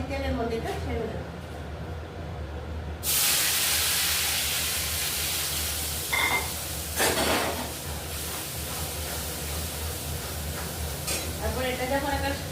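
Dried lote shutki fish hits hot mustard oil in a pan and erupts into a loud, steady sizzle, a close, hissing fry that continues throughout with occasional stirring bumps.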